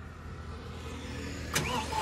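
A John Deere 5405 CRDI 4WD diesel tractor engine being started: a steady low idle-like hum, then a short sharp crank-and-catch burst before the engine settles into a smooth, even running sound.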